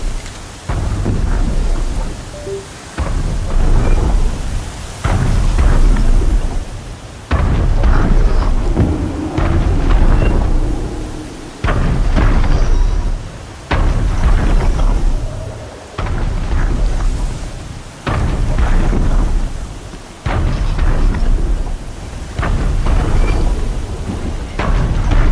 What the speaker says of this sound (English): Winds are driving up a storm.